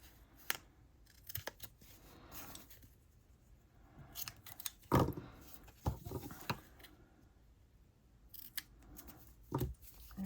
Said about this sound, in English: Let's trim the little excess on the corners off.